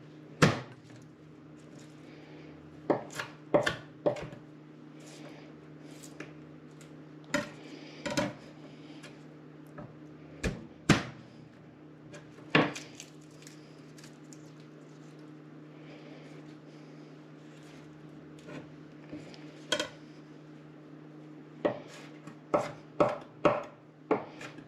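A knife chops two garlic cloves on a cutting board for slow-simmered deer chili, with sharp, close thuds in irregular clusters and pauses over a steady low hum, no talking.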